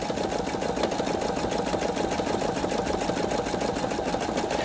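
A Pfaff Creative 3.0 sewing machine stitches a buttonhole, its needle running in a fast, steady mechanical rhythm that stays loud and close without a break.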